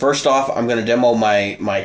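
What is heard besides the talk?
None of the usual background noises is heard.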